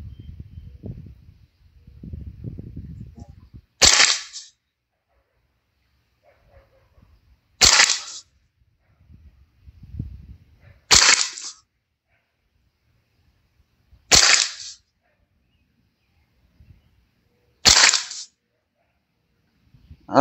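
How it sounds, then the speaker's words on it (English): Five separate shots from a Ruger 10/22 carbine firing Norma Tac22 40-grain ammunition at 50 yards, each a sharp, close crack spaced a few seconds apart, with quiet low rustling and faint handling noise between them. "Shoot another 5-shot group."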